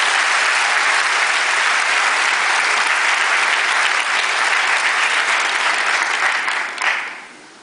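The Earl Haig class of 2009 graduating students applaud together, a loud, dense, steady clapping that holds for several seconds before tapering off sharply at the end.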